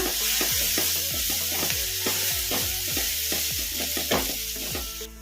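A masala mixture for spicy bread toast frying in a pan over medium flame, with loud steady sizzling and quick repeated scrapes of a spoon stirring throughout, no talking.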